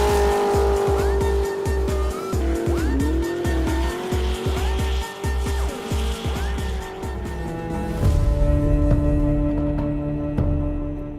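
A race car screeching with squealing tires, loud and close, its engine revving and whining through repeated skids and bursts of acceleration before a final rising roar.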